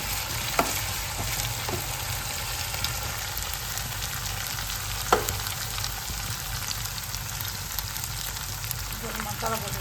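Dried red chillies fry with onion and ginger-garlic paste in hot oil for a jackfruit curry, a steady close sizzle with a few sharp clinks of a spoon against the pan.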